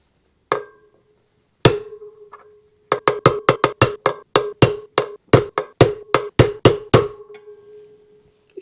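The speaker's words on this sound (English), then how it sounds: "Make sure you just hit the outside of it." A Yamaha Tenere 700 wheel bearing is driven in with a hammer striking a socket. Sharp metallic blows ring out close by: a couple of single hits, then a quick run of about twenty rhythmic strikes.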